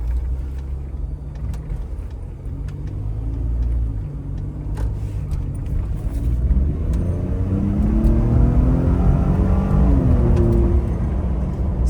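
A 2020 Ford F150 Raptor pickup, Gen 2 with 802A package and off-road suspension, rumbles low then revs up hard, engine pitch climbing through a gear as it accelerates on a suburban street, loud and close.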